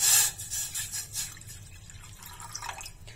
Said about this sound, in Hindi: गैस पे रख लिया है एक भगोना और इसमें डालेंगे हम 1 कप पानी